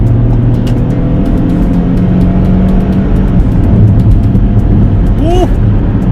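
A Ford Bronco Sport Big Bend accelerates hard in sport mode, its engine a steady, loud drone that rises continuously from inside the cabin, with an excited voice whooping briefly near the end.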